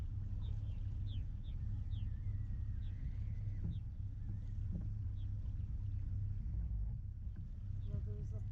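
A boat passes on Hess Lake at sunset, heard as a low steady engine rumble with wind, while birds chirp faintly and people talk quietly nearby.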